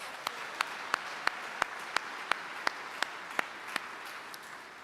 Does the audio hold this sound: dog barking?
no